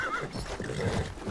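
A horse in the video game Battlefield 1 lets out a brief whinny amid game ambience and hoof-like thuds, moderately loud and close.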